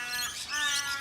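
A flock of wild birds squawking together, a dense shrill chorus of overlapping calls that stays loud and steady throughout with no talk.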